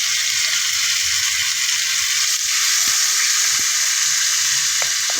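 Pork liempo fries in melted butter in a pan, a steady close sizzle with a few faint utensil clicks.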